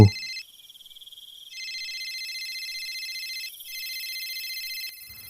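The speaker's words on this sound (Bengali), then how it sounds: "টেবিলের ওপর রাখা ফোনটা দেখলাম বেজে উঠল।" A phone resting on a table rings at night: a bright electronic ringtone plays in repeating bursts with short gaps, clear and steady over an otherwise silent room.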